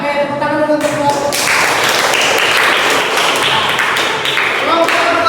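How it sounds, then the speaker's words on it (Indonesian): A classroom bursts into applause for a student group, many hands clapping loudly and steadily for several seconds after a brief spoken introduction. "Tepuk tangan dulu untuk kelompok."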